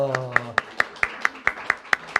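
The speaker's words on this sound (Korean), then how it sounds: "박수 주세요" A church congregation at a Wednesday worship service claps in a tight, steady rhythm: about ten crisp, evenly spaced claps in quick succession, right after a brief voiced exclamation at the start.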